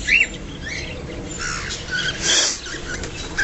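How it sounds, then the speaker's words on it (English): Parakeets squawk in short, harsh, high bursts, several calls overlapping close by against a steady background hiss. "I think they're parakeets."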